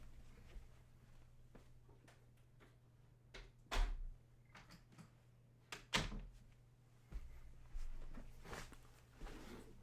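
A door is shut indoors, giving two solid thuds a couple of seconds apart with soft handling noises and a low steady hum underneath, and no talking.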